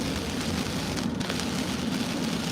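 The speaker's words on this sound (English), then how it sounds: "it's raining pretty good right now." Heavy rain pours steadily outdoors at night near the Ohio–West Virginia border, a dense, even hiss of drops striking surfaces with no voices over it.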